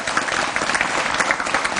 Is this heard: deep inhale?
no